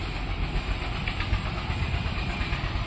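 Cooking oil goes into a pan for a village-style spinach and potato dish, giving a steady, loud, broadband hiss that runs without a break.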